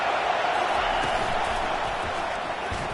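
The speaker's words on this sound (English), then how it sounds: "It is getting loud as this crowd tries to help its defense." A loud football stadium crowd roars during a USC vs Auburn game as fans cheer to support the defense, a dense, sustained wall of noise with commentary speech over it.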